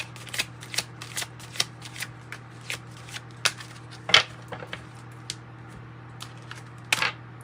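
An oracle card deck, fairy dust mixed with fortune cookie cards, shuffled close up in a quiet room, a steady run of crisp riffling clicks and flutters with a few louder snaps, no talking.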